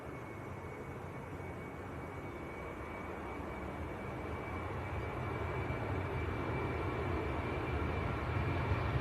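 An aircraft departing Leeds Bradford Airport, a broad steady jet roar with a faint high whine that slowly grows louder over several seconds, heard from a distance in rainy outdoor air.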